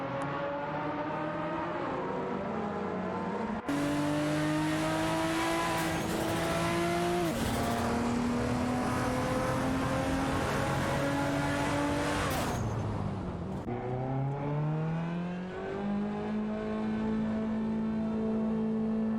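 Race cars in an AI racing video game roar continuously, engines rising and dropping in pitch through gear changes, several cars overlapping as they overtake, with abrupt cuts between camera views.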